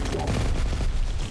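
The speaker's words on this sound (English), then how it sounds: "that's the heavy rotary cannon" Heavy rotary cannon firing in the strategy game Terminator Dark Fate, a dense, rapid stream of loud gunfire bursts with booming low end, continuous and close for the whole moment.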